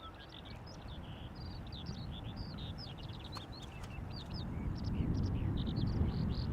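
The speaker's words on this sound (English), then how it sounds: "Do hear some birds chirping" Faint, scattered bird chirps repeat in the distance at Amsterdam Schiphol Airport over a soft, steady low rumble of background noise that slowly grows louder.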